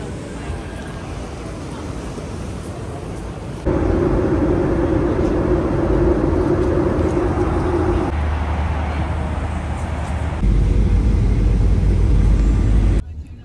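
Steady road and engine rumble from inside a moving Uber car, a continuous drone with shifts in level as it travels, with people talking at times over it.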